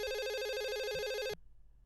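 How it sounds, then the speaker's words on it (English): A telephone rings while an office is being called, one loud, close, trilling ring burst lasting over a second and then stopping abruptly, followed by quiet line noise. "It's ringing. We're calling his office at Joe Louis Arena."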